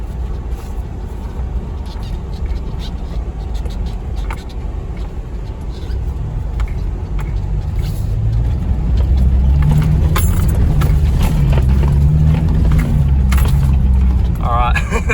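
A Nissan Patrol 4x4 in a river crossing near Lithgow, heard from inside the cabin: a low engine drone with water swishing and churning that grows louder and heavier partway through, with brief talk.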